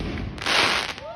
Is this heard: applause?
no